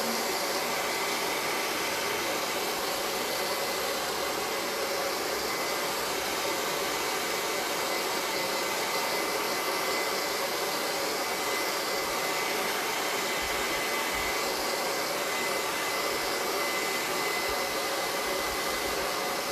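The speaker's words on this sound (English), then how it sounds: "I'm just going to blow dry it a little bit" A hair dryer blows continuously at close range to dry acrylic paint on a sunflower painting, a loud, steady rushing whir without speech.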